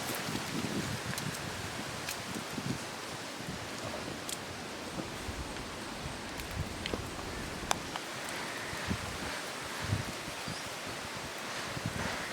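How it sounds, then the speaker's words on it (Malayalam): Wind blows outdoors in rural Kerala, a continuous broad rustling hiss through leaves with small scattered crackles, steady and fairly close for the whole stretch, with no one talking. "നല്ല കാറ്റ് ഇല്ലയോ?"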